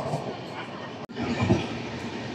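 Double Decker Uday Express train rolling out of Tadepalligudem station, a steady rumbling carriage noise with a brief dropout midway and a soft low thump near the end.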